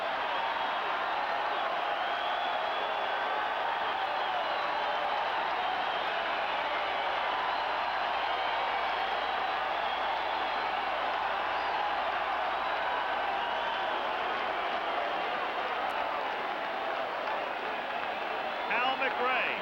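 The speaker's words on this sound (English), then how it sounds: "Now the crowd is not to be quieted. They stand as one." A Detroit Tigers home crowd standing and cheering at 1984 ALCS game 3 against the Kansas City Royals, a steady, unbroken roar from the stands under a commentator's voice.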